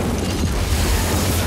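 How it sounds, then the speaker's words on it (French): A terrorist explosion in an action film around a truck produces a dense, sustained low boom and rumble that fills the whole moment without any speech. "20 secondes plus tard, il y a une première explosion terroriste."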